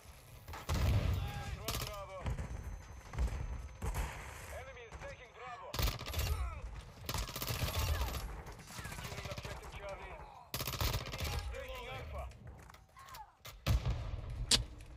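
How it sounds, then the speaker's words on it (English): Bursts of video game gunfire hammer through a shooter match in sharp, loud clusters, with someone talking over and between the shots. "I'm putting bullets into his stomach"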